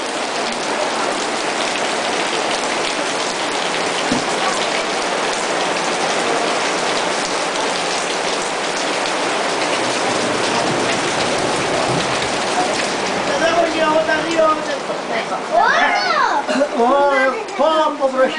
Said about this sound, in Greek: Πόπο βροχή.